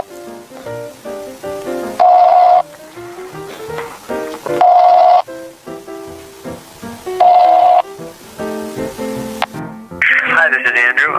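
A telephone ringback tone sounds during a phone call, three distinct rings spaced evenly under a voice talking, followed by a burst of electronic warbling at the end.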